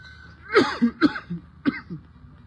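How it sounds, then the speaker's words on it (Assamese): Three sharp, harsh coughs close by, spaced out over a couple of seconds, each followed by a short rough exhalation. "কাহ কণ্টিনিউৱাছলি আহি থাকে"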